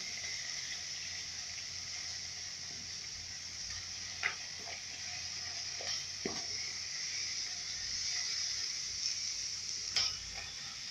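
Lentils added to a pot for lentil soup sizzle steadily in hot oil, a constant frying hiss with a few faint clicks and pops, with no talking.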